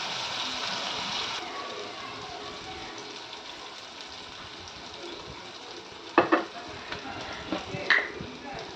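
Water is poured into potato masala sautéing in a pan and stirred, giving a steady sizzle with a hiss at first, then a few sharp scraping clinks near the end.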